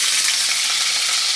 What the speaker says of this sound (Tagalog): pagpiprito ko siya ng isda na